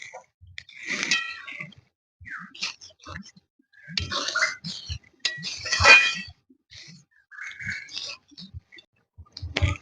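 Spoon clinking against a pot while stirring masoor dal with spinach and a little sugar, several short metallic knocks and scrapes in uneven bursts, close and moderately loud with no talking.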